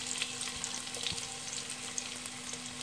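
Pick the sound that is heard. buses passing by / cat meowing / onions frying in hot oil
onions frying in hot oil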